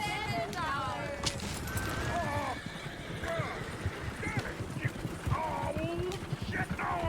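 Horse hooves clip-clop steadily in the Red Dead Redemption 2 game world, joined by neighs and whinnies. The sound runs under bird-like calls and constant talk.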